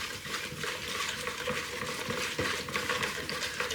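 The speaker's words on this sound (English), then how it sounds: "So continue stirring." Steady stirring of blueberry muffin batter in a bowl, a continuous soft scraping and churning with faint clinks of the spoon against the bowl, close and fairly quiet with no talking.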